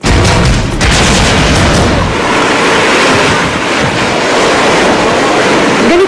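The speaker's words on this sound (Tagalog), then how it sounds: "Ganito palakas ang hampas ng mga alon sa dalampasigan ng Sorsogon." Strong typhoon waves crash continuously onto the Sorsogon shoreline, a loud, dense roar of surf with booming low rumble and gusting wind noise throughout, no voices.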